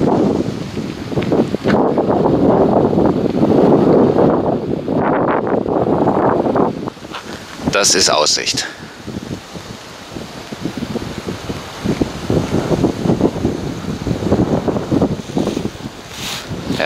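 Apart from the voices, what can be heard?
wind at a mountain viewpoint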